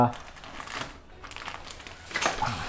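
Ceramic fiber exhaust insulation wrap for a big bike exhaust pipe is torn apart in dry crinkling, crackling bursts close by, loudest at the start and again near the end.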